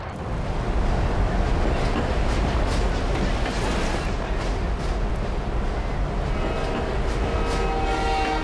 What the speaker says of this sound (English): Nothing quite like driving a train down the middle of a street.